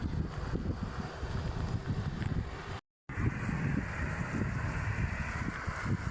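Wind gusts across open ground beside a cemetery, a rough blustery roar buffeting the microphone in uneven surges, with a brief dropout midway before the wind resumes.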